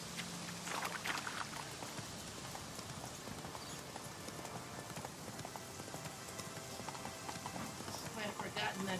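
Hooves of a horse galloping in The Witcher video game, a steady rapid clip-clop pounding under rushing wind or rain-like noise, with a voice speaking over it.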